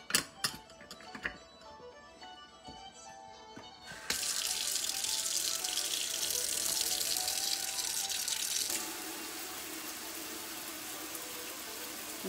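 Cold water gushes from a kitchen tap into a sink, starting abruptly after a few seconds of quiet clatter, then steady and loud before dropping to a slightly softer, lower flow.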